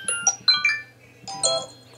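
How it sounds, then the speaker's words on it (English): The iPhone default Note message alert on iOS 16 plays: a bright, bell-like cluster of quick chimes, then a second shimmering chime, clear and close with nothing else around it. "By default, Note is the default sound, so you hear something like this."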